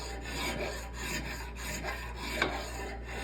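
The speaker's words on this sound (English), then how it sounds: "I have a very fine file, inexpensive one, and I'll come across my top edge." A fine, inexpensive file rasps across the top edge of a cast iron lathe tool rest, giving a steady, close scraping hiss with a single sharper scrape near the end.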